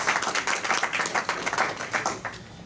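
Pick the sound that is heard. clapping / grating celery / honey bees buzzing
clapping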